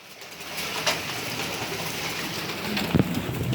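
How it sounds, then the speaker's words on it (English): Hail falling outside, a dense patter of ice striking surfaces that continues steadily with a few sharper, louder hits scattered through it, and no talking. "today it is hailing. Look at the ice falling out."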